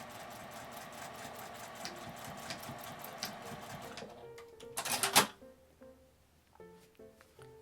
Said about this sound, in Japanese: 線の端まで縫います。